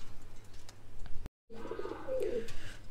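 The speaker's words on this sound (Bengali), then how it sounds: "কিং কবুতর আমরা দেখতে পাচ্ছি।" Red king pigeons coo in a cage at a pigeon farm in Rajshahi, soft throaty calls near the microphone, broken by a brief silent gap before a louder run of cooing.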